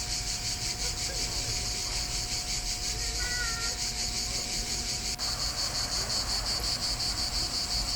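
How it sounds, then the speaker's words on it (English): Loud, steady cicadas buzz on a summer day near the hilltop fortress town of Spoleto, Italy, a dense continuous high drone that fills the whole scene with a slight shift partway through and no pauses. "Now that is the sound of the cicadas,"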